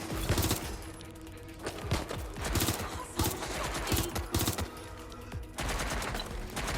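Bursts of gunfire in the video game Watch Dogs: Legion, rapid volleys of shots popping in clusters, loud and continuous over a steady background of game noise.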